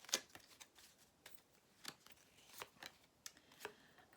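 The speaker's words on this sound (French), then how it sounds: "Allez, on va mettre une carte dessus." Tarot cards handled and laid down, a series of faint, crisp papery snaps and flicks spaced irregularly in a quiet room.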